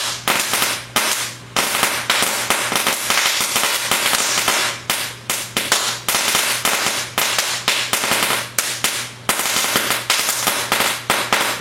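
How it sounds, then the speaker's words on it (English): Firecrackers explode in rapid, crackling volleys close by, loud sharp bangs tumbling in dense bursts with brief pauses between strings, over a steady low hum. "Rob, you're pushing it away from the fireworks."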